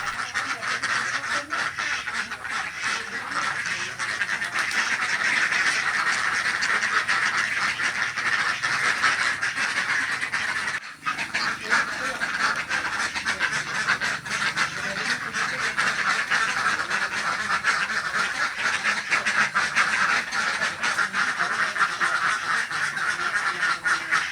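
Steady, dense quacking from a large flock of egg-laying ducks on a village duck farm, continuous and fairly loud for the whole stretch with no talking.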